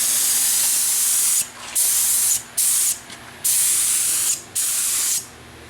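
Car bumper being spray painted with a light dusting coat: several close, loud bursts of hissing spray separated by short pauses, with no talking.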